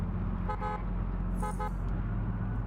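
Two short double honks from a car horn in TDU Solar Crown, a driving video game, ring out over a steady low engine drone, the pairs spaced about a second apart.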